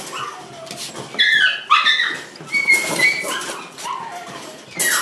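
A tan puppy from a litter of six whimpers and yips in a pen, giving high, quavering cries in rapid succession that sound close and fairly loud, with no talk over them.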